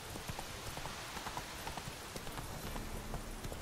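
Horse hooves while riding in The Witcher 3 Wild Hunt, a steady rhythmic clip-clop of a galloping mount, fairly quiet and constant over a soft background wash throughout.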